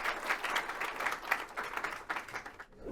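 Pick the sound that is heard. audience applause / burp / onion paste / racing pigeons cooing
audience applause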